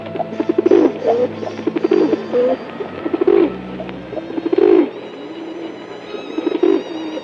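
A pigeon coos in repeated soft, throaty bursts, used as a comedic sound effect, fairly close and steady over a low background hum.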